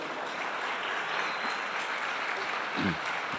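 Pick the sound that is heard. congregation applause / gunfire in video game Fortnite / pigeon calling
congregation applause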